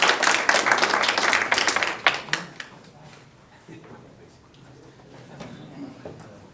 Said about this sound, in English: Can we give them a round of applause for what they did?